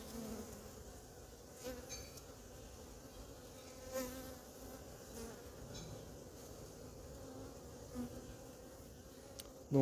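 Honeybees buzz steadily around a hive during feeding, a dense close insect hum with a few passing louder individuals and no talking.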